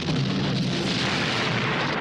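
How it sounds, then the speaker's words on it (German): A loud, sustained explosive roar, dense and rumbling with no pauses, filling the whole clip like a blast on a soundtrack, from a practical, non-CGI explosion in the 1981 film Mad Max 2. "Die Explosion."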